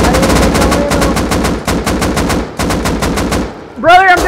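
Sustained automatic gunfire in the survival shooter Rust during a team deathmatch on the Embankment map, loud rapid bursts close by, ending with a short pause and a tonal game sound.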